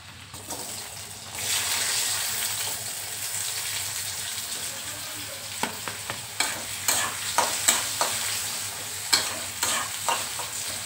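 Potatoes frying in a pan over a high gas flame for an okra-and-potato curry, with a steady loud sizzle and repeated sharp scraping stirs and clicks toward the end, heard close with no talk.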